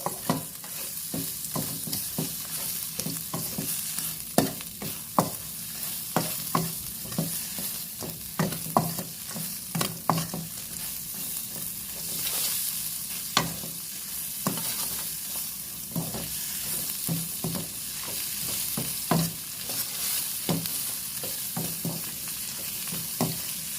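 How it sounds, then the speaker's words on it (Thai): Insects stir-fried in a pan with only a little oil, dry-roasting style: steady close sizzling with frequent scraping and clattering stirs throughout, no talk. "ผมจะใส่น้ำมันน้อยนะครับ เน้นเหมือนคั่วเอา จะไม่ใช้น้ำมันเยอะ"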